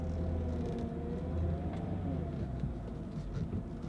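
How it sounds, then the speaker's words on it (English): A steady low groan from an aging Mercedes power steering pump as the wheel turns, with a rising and falling whine over the engine rumble, close and fairly constant throughout. "power steering pump's groaning a little, which is kind of typical on these as they age"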